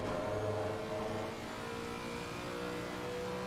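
A Lexus GT3 race car in Assetto Corsa Competizione at Silverstone, engine holding a steady, loud mid-pitched drone with layered harmonics, a slight dip midway, no talk over it.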